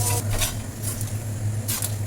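Whole spices dry-roasting in a pan with a little salt, stirred in repeated dry scraping strokes over a steady low hum, close and moderately loud.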